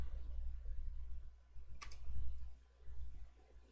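A computer mouse clicks an on-screen button during a Battle.net account sign-in, giving one sharp, close click in a quiet room with a low hum beneath it.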